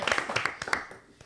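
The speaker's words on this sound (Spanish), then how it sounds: "El aplauso para él ahora." A few people clap briskly for a guest in a political podcast studio, a short run of sharp close claps that thins out and fades after about a second.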